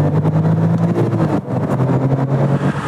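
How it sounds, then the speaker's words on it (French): A Porsche 997 GT2, the most powerful 911 variant, drives with a loud, close engine drone, holding steady tones with a brief dip mid-way before the engine pulls again. "La Porsche GT2 est la 911, la plus puissante et la plus rapide jamais produite par Porsche."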